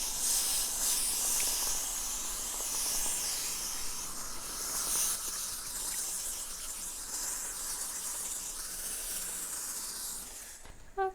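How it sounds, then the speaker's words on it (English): A garment steamer set on low releases a steady, close breathy hiss of steam over crochet fabric, holding for about ten seconds before a few small clicks at the end. "I'm just going to lightly steam it."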